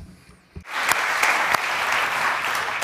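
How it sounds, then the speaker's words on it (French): An audience at the Paris Blockchain Conference 2019 breaks into applause for a panel, sudden full crowd clapping that swells in after a quiet moment and holds steady to the end, with a few louder claps standing out. "Des applaudissements, s'il vous plaît, pour notre panel"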